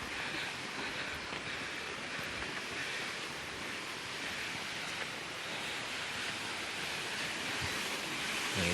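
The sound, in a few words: water flowing from seven spouts at a mountain bathing spring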